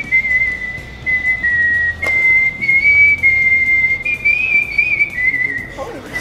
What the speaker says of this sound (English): My talent is whistling.